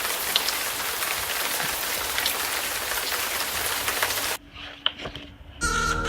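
A steady evening downpour hisses loudly and evenly for about four seconds, dense rain pattering on surfaces, then it cuts off abruptly into quieter sounds and a short burst of another noise.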